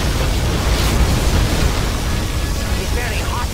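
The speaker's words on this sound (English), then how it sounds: "Particle cannon activated." A particle cannon fires in the strategy game C&C Generals, a dense, loud, rumbling blast of noise that roars continuously from start to end.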